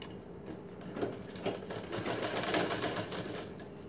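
A sewing machine stitches down a strip on a blouse, running in a quiet, rapid needle chatter that swells slightly midway and continues without speech.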